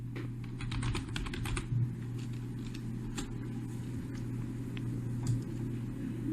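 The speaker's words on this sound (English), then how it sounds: "So to access cPanel, we will type in africanbabyshoes.com" Keys tapped on a computer keyboard while a web address is entered, a quick run of close clicks followed by sparser single presses over a steady low hum.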